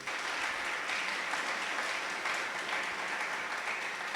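Steady, dense applause from a church congregation fills the space, broad and even throughout with no talk on top.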